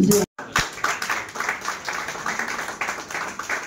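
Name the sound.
audience applause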